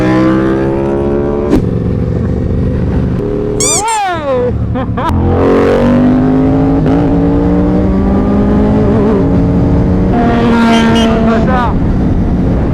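A loud Aprilia RS 660 sport motorcycle engine revs hard and climbs through rising pitch sweeps, dropping briefly between gear shifts, with a voice talking over it.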